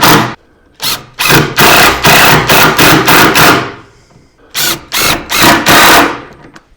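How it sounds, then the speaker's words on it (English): A power drill drives 1¼ inch grabber screws into wood in a workshop, with loud repeated close bursts of whirring and grinding separated by short pauses. "And we'll put a couple of screws from each end."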